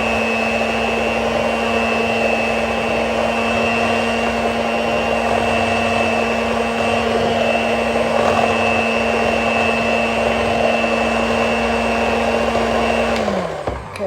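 An electric mixer beats chocolate birthday cake batter with a loud, steady motor whine that holds unbroken for about thirteen seconds, then winds down and stops at the end.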